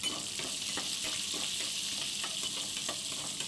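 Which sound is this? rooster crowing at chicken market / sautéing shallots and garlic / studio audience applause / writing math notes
sautéing shallots and garlic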